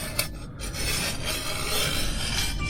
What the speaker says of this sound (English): is a Swiss burr deburring tool